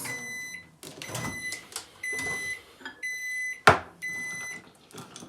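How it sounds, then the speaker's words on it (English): Microwave oven running on defrost to melt candy melts, with a steady hum, several clear electronic beeps near the start and middle, and a sharp click from the door or keypad. "I always start with the 2 rounds of defrost though for 30 seconds"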